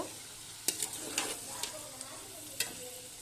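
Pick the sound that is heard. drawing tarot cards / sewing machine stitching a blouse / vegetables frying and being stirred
vegetables frying and being stirred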